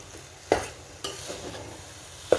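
Dal being stirred into a puranpoli mixture in a pot, a few soft scraping strokes and light clinks of a spoon against the vessel, close and fairly quiet, with no talking.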